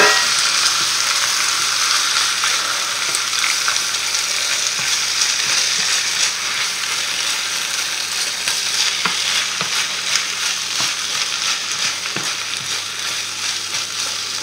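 Chopped onions and spinach sizzle steadily in oil in a frying pan, stirred now and then, a continuous close hiss with no voices.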